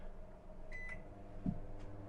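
A microwave oven starting up inside an RV, with a short beep or two over a steady low hum while an air conditioner keeps running in the background.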